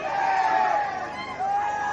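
Voices of a crowd chanting together at the Shri Mallikarjun chariot procession during the village fair at Kini, a short, steady sustained call over a mass of people.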